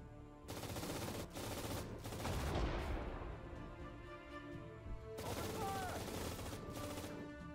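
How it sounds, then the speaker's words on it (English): Machine gun fire in the World War II strategy game Sudden Strike 4 during the battle of Guadalcanal, sustained rapid bursts of rattling shots in two long stretches, with a quieter gap between them. "Oh, my machine guns"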